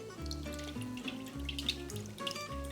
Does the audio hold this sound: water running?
yes